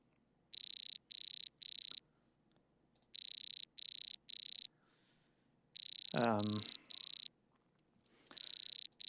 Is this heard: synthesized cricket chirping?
yes